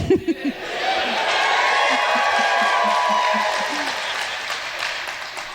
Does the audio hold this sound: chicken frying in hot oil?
no